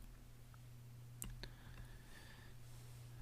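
A few sharp computer mouse clicks while working in Photoshop, isolated and close, over a steady low electrical hum with no talking.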